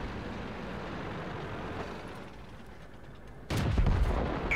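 A tank cannon fires in World of Tanks during a Hellcat or Matilda battle, one sudden loud boom breaking a steady rumble of engine and battlefield noise near the end.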